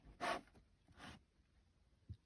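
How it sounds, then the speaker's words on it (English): Cardboard flap being pulled open on the bottom of a collector Barbie doll box: two quick, close scraping rasps of paper sliding free, then a faint soft thump, quiet and isolated. "you can easily take out this flap here"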